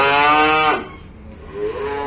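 A single cow at a cattle market gives one long, loud, close moo that tails off, followed by a softer, lower lowing.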